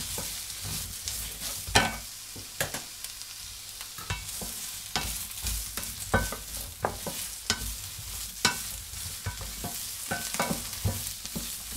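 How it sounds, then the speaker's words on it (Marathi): A large onion fries in a pan until deep red, a steady sizzle broken by frequent sharp scrapes and clatters of stirring, close and fairly loud with no talk. "हा मोठा 1 कांदा घेतलेला मी, चांगला फ्राय करून घ्यायचा आहे तो पूर्ण लाल होईपर्यंत।"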